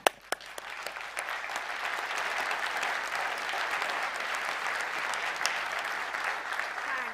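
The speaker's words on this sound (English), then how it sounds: "please all join me in a round of applause to you" Sustained applause from an audience at the ELTons Innovation Awards 2022, a dense steady clapping that swells after a couple of sharp opening claps and holds evenly throughout without talk.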